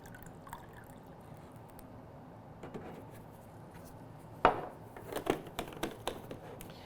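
Deionised water poured into a small ramekin, a few quiet trickles and splashes followed by a run of soft drips and clinks, close and faint against a low background hiss.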